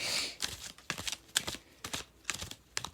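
A deck of cards is shuffled close by in a series of quick papery riffles and taps, several short bursts spaced irregularly with no talking.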